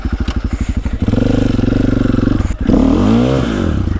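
A 2017 Husqvarna-style 501 FE dirt bike engine, just started, idles with rapid thumping pulses, then revs up into a loud, sustained roar with rising and falling pitch, close by and with no voices.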